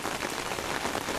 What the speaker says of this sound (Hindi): देखिए कितनी ज़ोर की बारिश हो रही